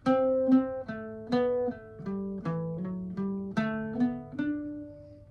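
An Irish bouzouki plays a short melody of bright, twangy notes in a steady rhythm of four groups of three, each note ringing briefly, alone and close.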